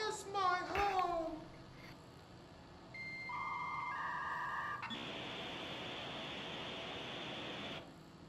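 Dial tone from the video game Control: a steady electronic tone that steps through several pitches, then settles into a sustained buzzy hum lasting a few seconds, after a brief burst of voice at the start.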